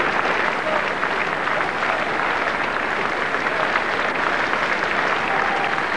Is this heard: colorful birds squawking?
no